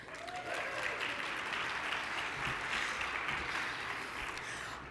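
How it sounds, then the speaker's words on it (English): Steady, sustained applause from a conference audience at a talk on pertussis trends and challenges, a dense wash of many hands clapping that stays even throughout, fading slightly at the end. "signify that with your applause"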